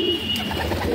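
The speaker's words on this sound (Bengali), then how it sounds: "ভালো ভালো জেনারেশনের পায়রা আছে এখানে" A pigeon at a loft of old-generation fancy flying pigeons coos once, close and fairly loud, with a low throaty warble over faint background noise.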